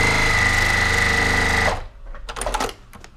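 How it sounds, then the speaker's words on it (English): A sewing machine runs steadily, stitching a quarter inch seam with a slightly longer stitch length while piecing a quilt block, loud and continuous for about a second and a half. It then stops, leaving faint handling rustles. "I'm going to just stitch with a quarter inch without thinking about that seam underneath"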